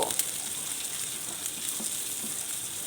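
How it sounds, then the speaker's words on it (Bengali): Half a cup of chopped onion with slit green chillies frying over medium heat in a pan, giving a steady, dense, crackling sizzle that stays close and even throughout, with no voices. "মিডিয়াম হিটে পেঁয়াজটা আমি নরম করে ভেজে নেব।"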